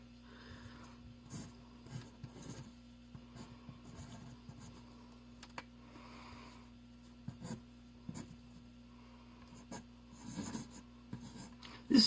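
A pen drawing cartoon shapes on paper, soft scratchy strokes and light taps in an irregular rhythm, close and quiet over a steady low hum.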